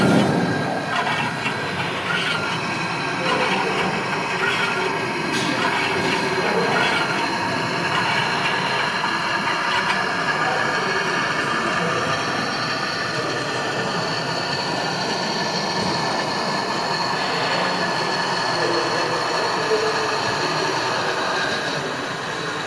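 A gauge 0 model Köf 2 shunting locomotive runs across a shunting module layout at a museum, giving a steady, continuous mechanical rumble and rolling hum that holds evenly for the whole stretch, with no talking.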